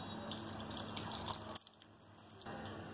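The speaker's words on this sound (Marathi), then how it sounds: "आपल्या भांड्यांमध्ये पाणी थोडस घालून म्हणजे आपला मसाला फुकट जाणार नाही." Water splashes steadily into cooking pots holding leftover brinjal masala, a close, continuous pour that cuts off abruptly partway through and then trickles faintly, with no talking.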